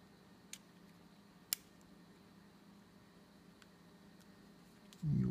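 A 64GB Samsung EVO microSD memory card is pushed into a camera slot, giving two faint, sharp clicks apart in a quiet room before a low rumble at the end.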